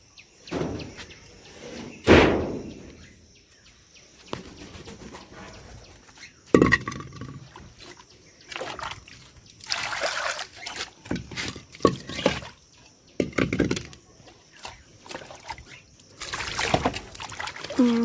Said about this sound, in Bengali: জল নোংরা আছে ধুয়ে জল ভরে দিয়ে দিচ্ছি